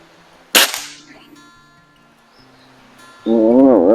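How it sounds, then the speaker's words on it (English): A single sharp crack from a Beeman C1 carbine air rifle is close and loud, with a brief tail. Near-silence follows, then a sustained tonal vocal-like sound near the end. "this is shot number 5"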